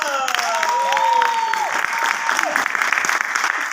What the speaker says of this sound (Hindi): आपकी भरपूर तालियों में सोनू बा।